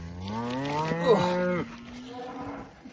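A dairy cow lets out one long, loud moo close by, rising and then trailing off over about two seconds, with quieter farm ambience around it.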